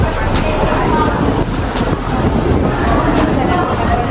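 Wind gusting high on the Eiffel Tower in Paris, a steady broadband rush with microphone buffeting that stays loud and constant throughout, with a faint voice underneath.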